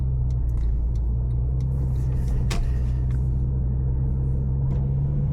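A Porsche 997 driving along a road toward Bratislava, with a steady low engine and road rumble holding throughout and a brief sharper noise midway.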